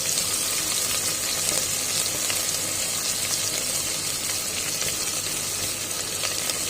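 Sliced large onions fry in hot oil with fennel, cinnamon and cloves for a chicken biryani, giving a steady, even sizzle close by with faint stirring, no voices.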